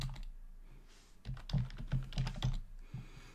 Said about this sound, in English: if we type the find MNT command now